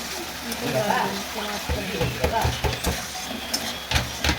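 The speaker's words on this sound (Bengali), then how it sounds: "আলুগুলো দিয়েও আমি দশ মিনিটের মতো কষতে থাকবো" Spice paste and potatoes for shukto sautéed and stirred in a pan, a steady sizzle with repeated scraping strokes of a spatula, a voice talking over it in places.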